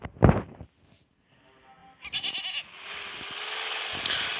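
A goat in an offroad driving video game bleats in short, close bursts, followed by rising engine and motor noise from the game vehicle; no one speaks.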